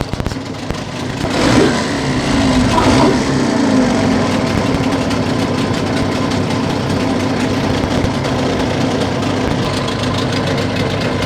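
A small carbureted engine being tuned is restarted and settles into a loud, steady, close-up running drone with a slight rise as it catches, continuing unbroken to the end.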